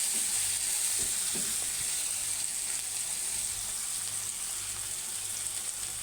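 Eggplant and onion stir-fry in a pan for an egg curry, giving a constant close sizzle with a few soft stirring scrapes early on, no speech.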